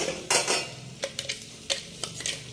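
Green chickpeas are tipped into fried onions in a cooking pot, giving a soft sizzle with scattered scraping and clinking of a ladle against the pot, close by and with no talking.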